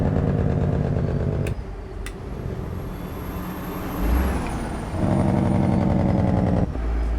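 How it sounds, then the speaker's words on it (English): A CAT C-15 diesel engine in a Peterbilt 389 truck drones steadily in a driving game, its pitch shifting as gears change, with a sharp air-brake hiss and short clicks along the way. "God, that's such a great sounding engine."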